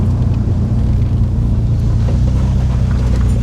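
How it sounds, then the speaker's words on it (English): A Nissan R33 rolls along in neutral with the engine barely contributing, a continuous low tyre and road rumble steady throughout, close and fairly loud. "when we put the car into neutral, the car still rolls nicely."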